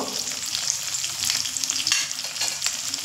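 White and red potatoes seasoned with salt and turmeric fry over a medium flame, giving a dense, even sizzle with light stirring scrapes, close and steady without pause.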